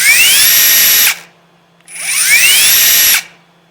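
An 18V Metabo HPT triple hammer bolt driver whirs in two loud, close bursts separated by a short pause. Each burst starts lower and winds up to a high, steady whine before cutting off.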